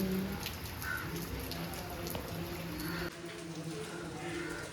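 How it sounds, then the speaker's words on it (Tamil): Steady rain falls throughout, a continuous broadband hiss with scattered drops on surfaces on a rainy day, while a person talks intermittently over it. "நல்ல மழை இன்னைக்கு."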